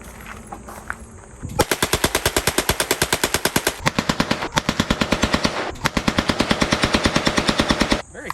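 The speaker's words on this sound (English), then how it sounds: "this is a machine gun registered in 2020, but came out in 1941" A 1941 machine gun firing long, loud, rapid automatic bursts at close range at a shooting range, with a brief pause between strings of fire.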